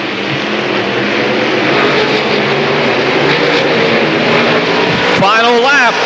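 Late model race cars roar around a dirt oval on the final lap of a 1993 heat race, a loud sustained engine drone filling the clip, with an announcer talking over it.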